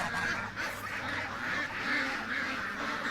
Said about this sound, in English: The geese are coming over to me.